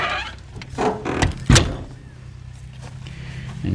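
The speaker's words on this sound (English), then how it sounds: "close our door," The door of a Palomino Pause off-road camper trailer swings shut with a firm thunk and latch click near the middle, preceded by softer handling clunks, close by with no voices.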